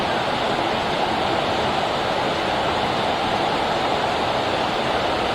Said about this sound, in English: The waterfalls are so lovely.